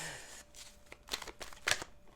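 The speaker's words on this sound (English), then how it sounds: "I really got good at shuffling" A deck of tarot cards being shuffled, with soft riffling bursts and a sharper flurry near the end, close and fairly quiet.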